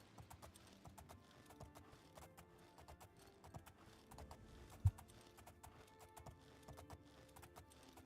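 Horse hooves clip-clop at a steady walking rhythm while riding in the video game Oblivion, faint and even, with no talk and one sharp click midway.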